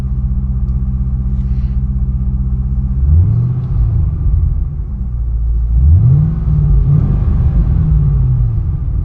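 A warmed-up Ford Mustang Bullitt engine idles with a steady low rumble, then revs up twice to about 3000 rpm, pitch climbing and settling back, loud and close.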